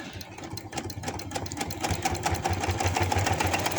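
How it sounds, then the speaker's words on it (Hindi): Sewing machine stitching pajama pants, a steady rapid mechanical clatter of the needle running close and continuously, with a light motor hum underneath. "ऐसे ही इसको दूसरी तरफ को सिलाई लगा के ले जाऊँगी"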